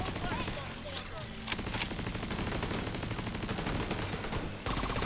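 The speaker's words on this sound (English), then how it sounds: "I think I just blasted 6 shots into my turret." Gunshots fired into a turret in a video game, rendered as dense rapid bursts of gunfire over a busy, loud game soundscape that runs throughout.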